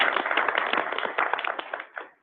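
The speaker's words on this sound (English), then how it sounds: "and they deserve an applause." Applause in a board meeting room: many hands clapping together close by, steady and fairly loud, then fading out.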